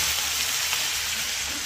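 Sauce for pata tim sizzles loudly in a pan, a steady close hissing fry with no talk.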